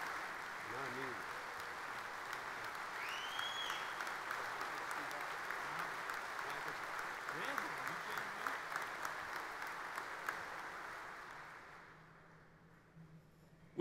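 A convention crowd of firefighters' union members claps steadily in sustained applause for several seconds before it fades out, with a few faint voices underneath.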